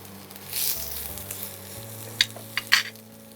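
Ridge gourd and green banana peels with garlic and green chilli sizzle in a pan, a steady frying hiss with a few sharp spatula scrapes and clicks near the end, no talking.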